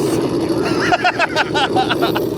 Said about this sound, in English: It's got sound to it. You can hear the engine.